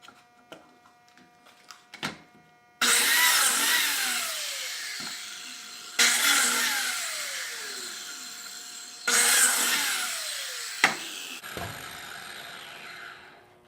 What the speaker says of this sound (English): I'll need to make more biscuit slots to hold the tile supports.